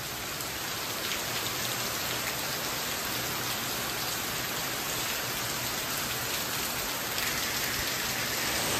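Steady, dense rain in Sri Lanka pours down continuously, a loud broadband hiss of drops striking surfaces with no pauses and no voices.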